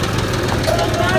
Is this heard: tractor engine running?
yes